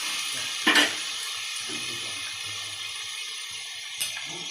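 Onions and tomatoes sautéing in a pan for a prawn curry, a steady quiet hiss of frying with two brief louder bursts of sizzling as the pan is stirred.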